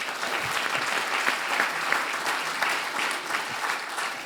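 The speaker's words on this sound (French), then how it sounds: "Je pense qu'on peut applaudir" Sustained audience applause at a conference colloquium, a dense steady wash of clapping hands filling the room at even loudness throughout, with no voices rising above it.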